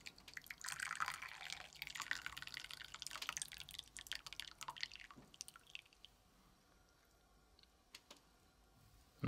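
Brewed Jin Jun Mei black tea pours into a cup with a close, trickling, splashing stream that fades to faint drips and quiet.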